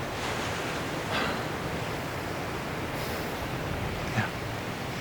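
Ocean waves wash against a rocky shore in a continuous, soft, hissing surf, steady and moderately distant, with one or two faint swells rising briefly.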